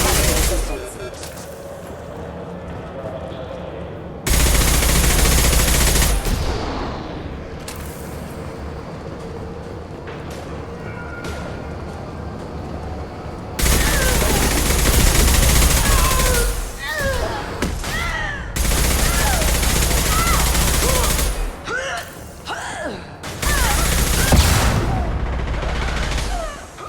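Gunfire in the video game Mass Effect 2, heavy sustained bursts of shooting alternating with quieter stretches, loud and dense, with voices talking in between.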